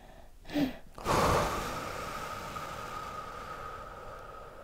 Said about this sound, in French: Voilà, ça c'est une respiration.